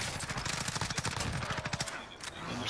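Rapid automatic fire from a Kilo 141 rifle in Call of Duty crackles in a dense burst of close, evenly spaced shots, pausing briefly before a few more rounds, with faint voices underneath.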